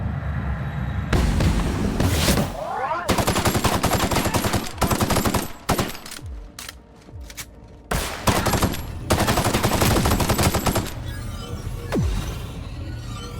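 Bursts of automatic gunfire in The Outer Worlds, loud and close, coming in several long volleys with short gaps between them and a few sharper single shots near the end.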